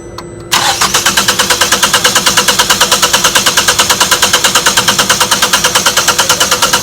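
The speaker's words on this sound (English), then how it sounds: "And as expected, the vehicle does not start." A car engine cranks over and over without firing, its cam and crank position sensors disconnected; after a short quiet start, the starter churns in a steady, fast, even rhythm, loud and close, for several seconds.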